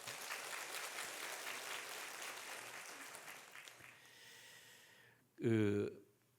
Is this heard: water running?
no